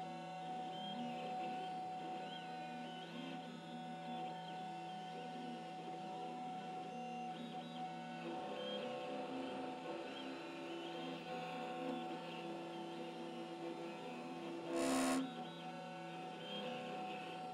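A Pocket NC small CNC milling machine cuts a pen click mechanism part, a steady mechanical whir with tonal hum running throughout, broken by one short louder burst near the end, no talk.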